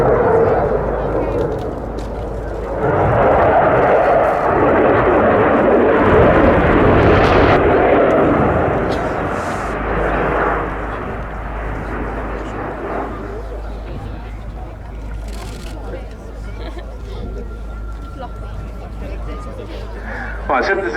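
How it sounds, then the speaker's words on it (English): A Dassault Rafale fighter jet flies its display at the RAF 100 Cosford Air Show, with a loud, broad jet roar that swells and then fades under a commentator's steady voice. "We've now seen Sébastien put the Rafale's undercarriage down, coming in straight towards us with the landing light blinking."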